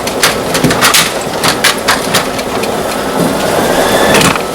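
Wooden thread cabinet drawers pulled out in a quilting room, a busy run of loud, close rattles, knocks and scraping, with no talking.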